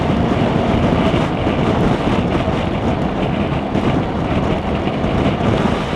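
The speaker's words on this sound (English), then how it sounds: "certainly quite a strong crosswind today, 15 miles an hour, gusting up to 30" Strong, gusty crosswind buffeting a motorcyclist's microphone on a 2018 BMW R1200GS Adventure or R1200RT, a loud continuous roar that swells and dips with the gusts, with no talk.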